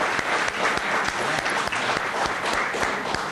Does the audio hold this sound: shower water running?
no